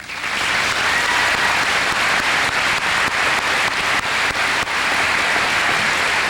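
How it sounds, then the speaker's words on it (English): Dense, steady applause fills a graduation ceremony hall, loud and continuous from a large seated audience, with no voices rising above it. "Please give them an applause."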